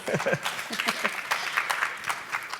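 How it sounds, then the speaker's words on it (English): A crowd applauds steadily at a conference annual meeting, a dense patter of many hands clapping at moderate volume, with no pauses. "always deserves a round of applause."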